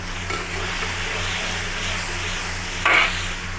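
Crab curry with coriander and mint leaves sizzles steadily in a pan while it is stirred, with a brief louder scrape near the end, no speech.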